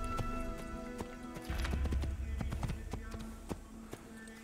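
Rhythmic hoofbeats of a horse in the game Assassin's Creed clip-clop at a quick gallop, with a brief whinny, over a steady synthetic game background; close and moderately loud.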